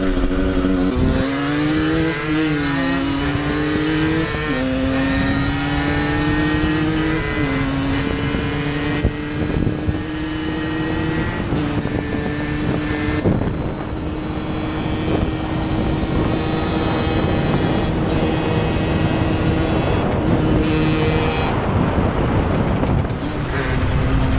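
Moped engine fitted with a new Turbokit exhaust and a 16 mm Dell'Orto carburettor with a 105 jet, running loud and close with a continuous buzzing drone and several rev rises and falls, no talking.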